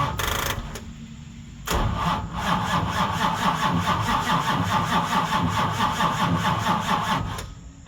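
A 1970 Dodge Charger with a 640hp Mopar stroker engine cranks with a brief starter whir, pauses, then cranks again in a long steady rhythmic churn, loud and close, without clearly catching.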